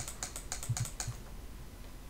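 Light taps on a tablet screen click in a short, uneven run, faint and close, over a low steady hum, then trail off into quiet.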